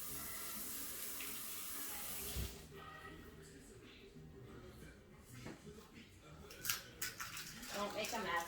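Tap water running into a kitchen sink during hand washing while baking banana bread, a steady hiss for a couple of seconds, then quieter splashing and clattering.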